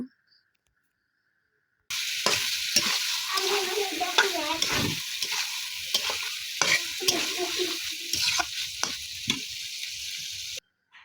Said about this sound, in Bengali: এখন আমি মশলার সাথে কলিজাগুলো ভালোভাবে নেড়ে চেড়ে মিশিয়ে নেব